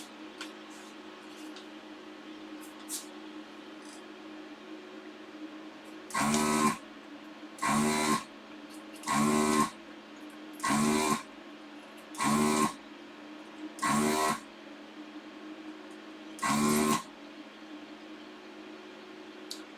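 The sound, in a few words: machine plugging up during live repair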